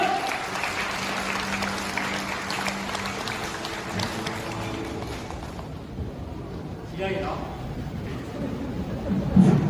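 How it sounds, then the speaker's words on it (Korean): Wedding guests applaud at a ceremony, a steady broad wash of clapping that carries on for several seconds before thinning, with a voice speaking over part of it. "다시 한번 큰 박수 부탁드리겠습니다"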